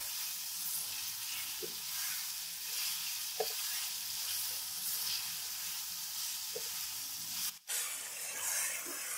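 Spices frying in avocado-free karahi oil for Balochi tikka karahi, a soft, steady hiss of sizzling with occasional faint stirring taps and one sharp knock, fairly quiet and unaccompanied by speech.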